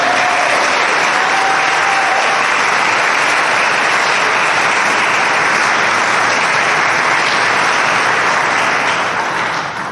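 Steady, loud applause from an audience at a Boys and Girls Club grand reopening and ribbon cutting, honoring the club staff, sustained without a break and easing slightly at the end.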